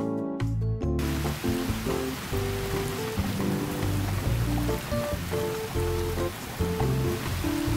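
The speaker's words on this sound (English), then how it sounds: "I think I felt a raindrop just now, which is probably our cue to head inside." Rain pours steadily in the cozy farming video game Cabin Fever, a dense continuous hiss of falling drops with a soft gentle musical score playing underneath, no talk.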